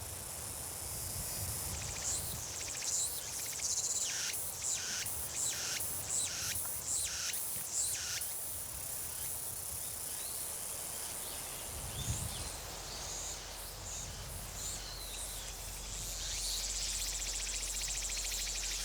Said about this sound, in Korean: 대표적인 여름곤충 매미의 울음소리는